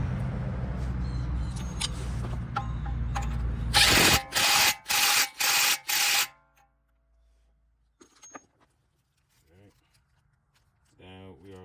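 A power tool, likely an impact wrench, runs in four sharp bursts while a new axle nut goes onto the driver-side axle of a 2009–2014 Nissan Maxima. Heavy workshop noise comes before the bursts, and faint clinks and brief talk follow.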